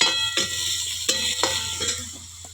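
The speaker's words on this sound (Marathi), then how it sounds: "कांदा चुलीवर भाजून घेते," Onion being roasted in a kadhai over a wood-fired chulha, a light sizzle under a low steady hum broken by a few sharp scraping stirs, close and fairly quiet with no talk.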